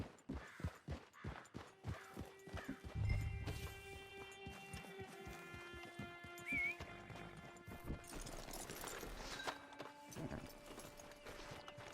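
A horse in Red Dead Online clip-clops along in a run of hoof beats, then whinnies loudly partway through, with tonal game music and ambience continuing beneath.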